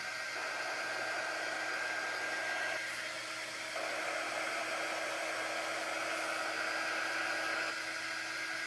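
A hair dryer blows a steady, loud stream of air at close range to dry paper craft leaves, with a brief dip in the airflow midway before it resumes.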